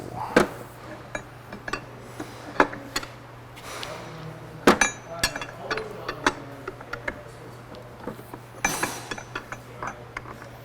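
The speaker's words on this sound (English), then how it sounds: "we're going to get a big giant wrench, 1 3/4 inch, and we are going to loosen this guy like so" A large 1 3/4 inch wrench is used to loosen a transmission nut, producing scattered close metallic clinks and knocks at irregular intervals over a low steady hum.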